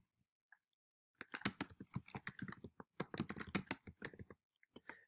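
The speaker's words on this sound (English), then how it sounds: "With that information, I go back here, I type it in," Rapid, uneven keystrokes on a computer keyboard, close and distinct, come in two bursts separated by a short pause, with a few isolated taps at the end.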